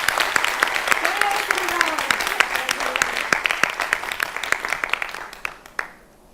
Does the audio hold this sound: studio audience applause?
yes